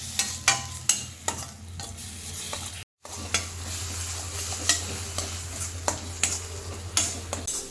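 Onion and spice puree for paneer pepper masala sizzles steadily in a pan, with repeated scraping strokes of a spoon stirring it and a brief silent gap partway through.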